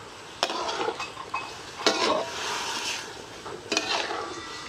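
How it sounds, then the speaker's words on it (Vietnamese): Food stirred in a pan over a wood fire outdoors, with a few sharp metal scrapes and clinks against the pan over a steady sizzling hiss, close and moderately loud. "lửa mà nó xèo xèo xèo thật luôn á"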